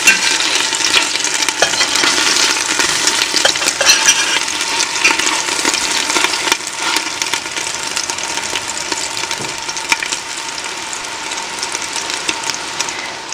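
Italian-style meatballs sizzle steadily in a frying pan as they brown, with a loud, continuous crackle and occasional scraping clicks as they are turned, and no talking.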